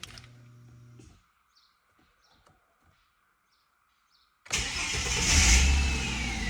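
A Ford AU Falcon with a turbo Barra engine cranks and fires after a quiet spell with faint chirps, settling into a loud, close, rumbling idle that holds steady to the end.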